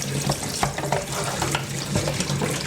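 Hot water gushing steadily from a tap, a close hissing splash with small gurgles and clinks.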